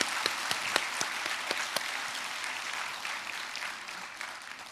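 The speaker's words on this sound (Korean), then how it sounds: "서로 다 같이 환영의 박수를 함께 쳐주셨으면 좋겠습니다" Steady applause from an assembled audience welcomes new and transfer students at a university orientation ceremony, a dense even patter of many hands, moderately distant and continuing throughout.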